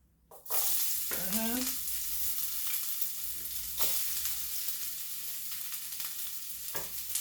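Carrots hit very hot oil in a pot and burst into a loud, steady sizzle that holds throughout, with occasional scrapes of stirring and a couple of sharp crackles.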